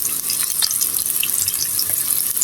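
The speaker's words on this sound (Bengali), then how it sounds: "এটা আমি এখন পেঁয়াজগুলি একটু হালকা ভেজে নিব" Onions fry lightly in a pan with a loud, steady hissing sizzle that continues without a break, with a few faint stirring taps.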